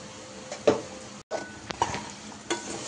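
Crispy potato fry being mixed in a pan, with a few sharp scrapes and clinks of a spoon against the metal over a soft sizzle, close and intermittent with no voices.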